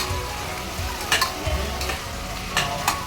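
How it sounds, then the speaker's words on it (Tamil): Chopped onions sautéing in oil in a pan for chicken biryani, a low steady sizzle broken by several sharp scraping strokes of a spoon stirring, close and clear without talk. "லைட்டாக மிக்ஸ் பண்ணிக்கோங்க"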